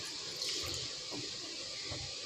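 Water poured from a small bowl into a gram flour and yogurt batter in a home kitchen, a soft, steady trickle and splash, fairly quiet and close, with no talking.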